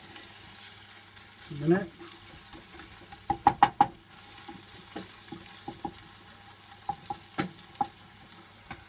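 Garlic and bay leaves sautéing in a pan for chicken curry, a soft steady sizzle broken by a cluster of sharp spoon knocks and scattered taps, with a brief spoken phrase early on.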